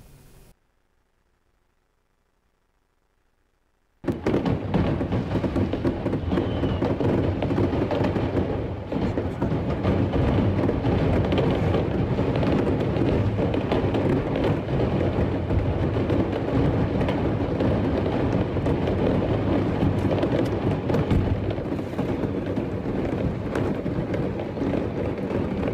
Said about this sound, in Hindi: पटाखों की एक फैक्ट्री में इत्तेफाकी तौर पर आग लगने से जोरदार धमाका हुआ और हजारों पटाखे एक साथ जल उठे।